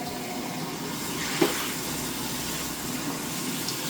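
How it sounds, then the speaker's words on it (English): Water poured from a tap onto rolled oats with a little salt for oat milk, a steady close gushing stream filling the container, with a brief splash partway through. "Now we're going to start putting water in."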